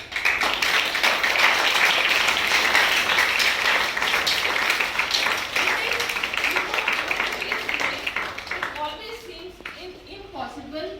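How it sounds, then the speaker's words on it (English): A school assembly audience applauds two students for their sketch of Nelson Mandela, a dense, steady wash of clapping from many hands that holds for several seconds, then thins out and fades near the end. "Clap for them."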